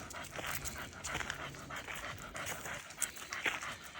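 A rescued dog pants steadily with quick, rhythmic breaths, close by and faint, on an outdoor walk, with no speech.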